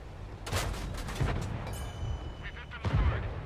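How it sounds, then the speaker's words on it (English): Tank cannon firing standard shells in World of Tanks on console, with the Sentinel AC IV shooting at an SU-152: loud booming shots near 0.5, 1.2 and 2.9 seconds over a rumbling battlefield bed. "firing the standard shells"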